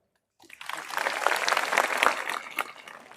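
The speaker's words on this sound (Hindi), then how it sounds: "आप अपने लिए ताली बजाओ" Schoolgirls at a residential girls' school in Keredari, Jharkhand, clap for themselves, a dense burst of many hands starting abruptly after a silent moment and holding steady at close range, with a little talk mixed in.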